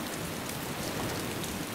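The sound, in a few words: heavy rain in DayZ video game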